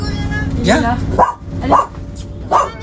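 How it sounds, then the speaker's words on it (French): A shelter dog barks and yips in several sharp, close bursts, spaced about half a second to a second apart, while people talk softly in French between the barks. "C'est un chien de refuge en fait."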